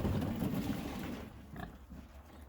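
A farm pig grunting and snuffling close by while playing with its water, a run of low rough grunts that fades into quieter shuffling.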